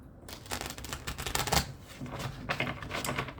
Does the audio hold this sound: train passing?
no